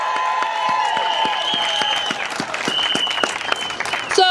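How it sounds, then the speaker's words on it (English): Applause from a crowd at a public workers rally, steady and dense clapping filling the space for several seconds, with cheers and voices mixed in and a slight swell toward the end. "Let's give him another hand of applause."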